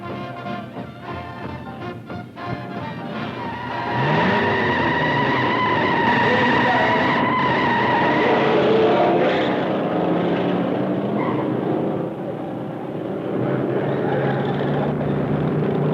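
1950s hot rods racing, one a T-Bird, on a local track: a loud, sustained engine roar that swells after a few seconds and holds steady, with no talk over it.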